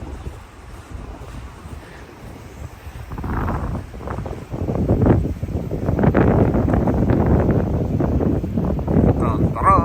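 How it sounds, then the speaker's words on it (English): Gusty wind buffets the microphone outdoors near a cave in New Zealand, rising from a moderate rush to a heavier, fuller roar partway through, with a voice speaking under it. "go in the cave, and then we'll have no wind."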